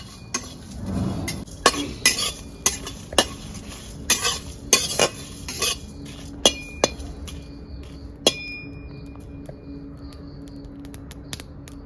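Whole spices and dried red chillies stirred as they dry-roast in a pan, with a spoon or spatula scraping and clinking against the metal in a run of sharp, irregular strikes and a faint sizzle, no talking.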